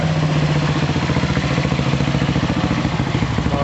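Old Velocette motorcycle engine running close by, a loud, steady, rapid thumping beat with mechanical clatter throughout.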